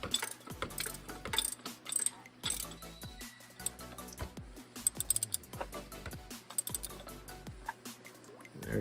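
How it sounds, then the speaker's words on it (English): A ratchet loosens the oil drain plug on a supercharged Lexus ISF, giving rapid, close bursts of metallic clicking in repeated strokes with short pauses between them. "now we can just ratchet it right off"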